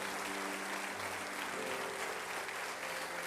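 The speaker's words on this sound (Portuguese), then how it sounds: "Se vocês me entenderam, aplaudam bem forte ao Senhor nessa noite." Church congregation applauding steadily for several seconds, a dense even wash of clapping with a low hum underneath and no talk.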